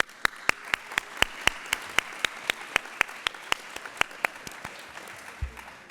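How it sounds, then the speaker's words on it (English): Sparse, regular claps ring out at a youth recognition awards ceremony, a steady run of sharp hand strikes over a faint room background, fairly close and evenly spaced, tapering near the end. "and for that, we applaud you."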